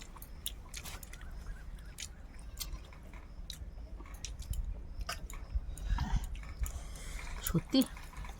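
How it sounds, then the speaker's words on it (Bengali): Small fish being eaten: soft, moist chewing and biting sounds come in irregular bursts, fairly close, with a faint background. "আজকে ছোট মাছের লাজা বাবা আর আমি ভাগ করে খাচ্ছি"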